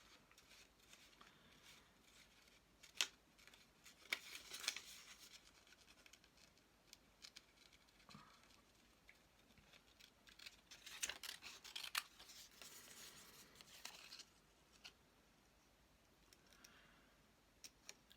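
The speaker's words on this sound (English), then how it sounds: "I can sit and cut paper for hours until my fingers actually go numb from holding the scissors." Scissors cutting paper for a bird collage: sharp, close snips and crisp rustles come in scattered bursts over a quiet room, with no talking.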